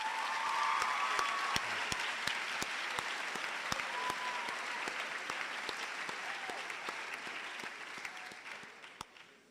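A steady round of audience applause fills a school speech day hall, many hands clapping evenly and continuously, moderately distant, with a few sharper claps standing out and the sound thinning slightly at the end.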